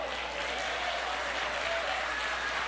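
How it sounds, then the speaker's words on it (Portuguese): A church congregation applauds hard and continuously, a dense steady roar of clapping, with a faint tone and crowd murmur mixed underneath. "Aplauda bem forte ao Senhor"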